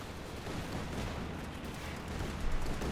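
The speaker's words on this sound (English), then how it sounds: "Light machine gun duel here." Sustained battlefield gunfire from a Company of Heroes 2 match, with Browning light machine guns trading bursts in a duel amid dense, continuous rattling and a sharper burst near the end.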